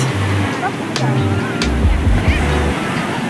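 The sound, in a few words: ocean waves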